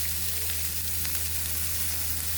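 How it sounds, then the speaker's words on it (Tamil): Onions and carrots sautéing in a pan, a constant close sizzle with faint stirring under a low steady hum, no voices. "கேரட்டையும் கூட போட்டு வதக்கணும்"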